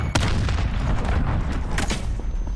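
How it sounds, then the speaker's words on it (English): Cruise missile strike in the game Modern Warfare, a loud, continuous rumbling blast with crackling debris and a couple of sharp bangs, close and heavy, with no talking. "Enemy cruise missile incoming, take cover!"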